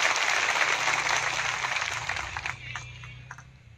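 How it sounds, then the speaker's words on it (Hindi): Applause at a BJP political rally in Gujarat, a dense burst of clapping from the crowd that gradually fades and thins out over a few seconds. "जोरदार ताली बजाकर उनका अभिनंदन कर"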